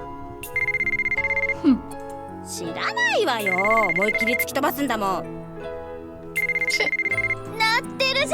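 Mobile phone ringtone in the video game White Album 2, a repeating electronic melody that plays in bursts while animated voices speak over and between the rings.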